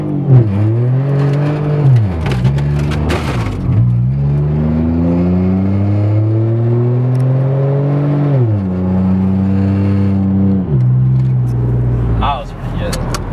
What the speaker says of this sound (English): take two on the burnout